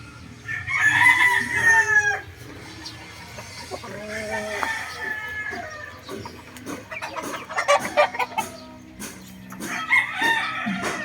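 A gray WPC-banded gamecock of a bone crusher line crows repeatedly, several loud nearby crows with clucking and other fowl between.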